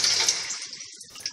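Running water pours from a tap over poke salet (pokeweed) greens being rinsed, a loud, close hiss that thins out and trickles before a short splash at the end.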